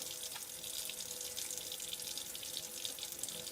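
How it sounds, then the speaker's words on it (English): A kitchen or bathroom tap runs steadily into a sink as soapy hands are rinsed, an even hissing stream of water at moderate distance with no talking. "rinse off really well so all of the soap goes down the drain"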